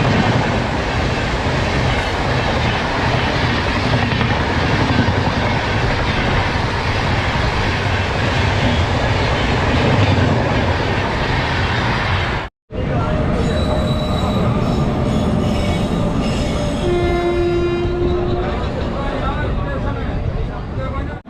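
The Himsagar Express pulls into New Delhi station with continuous rumbling rail noise, clattering wheels and a high squeal of wheels on track, loud and close, and a brief drop near the middle; voices are faintly present.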